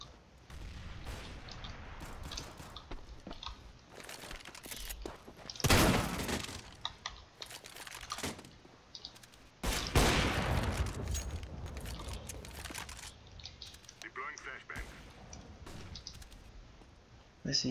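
Gunfire in Counter-Strike: Global Offensive competitive play comes as bursts of close, clattering shots with a couple of loud, sharp volleys standing out over steady game noise.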